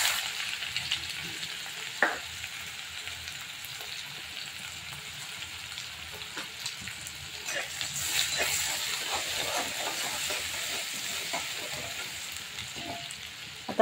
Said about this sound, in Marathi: हे बघा, आता कांदा ॲड करते।